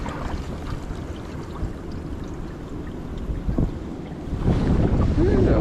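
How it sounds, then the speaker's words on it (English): Wind gusting across open water during winter kayaking; steady loud rushing buffet on the microphone, growing stronger toward the end, with faint water sounds beneath. "The wind's picking up."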